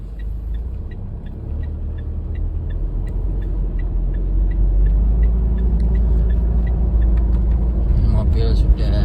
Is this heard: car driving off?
yes